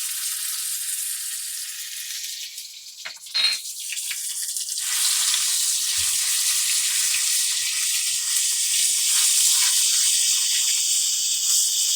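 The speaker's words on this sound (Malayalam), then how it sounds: "അതിലേക്കാണ് ഒരു ജിഞ്ചർ ഗാർലിക് പേസ്റ്റ് ഇട്ട് കൊടുക്കുക." Ginger garlic paste frying in hot oil with bay leaf, cinnamon and cardamom, a steady loud sizzle and hiss that flares briefly as the paste hits the pan, then settles into a continuous close frying crackle.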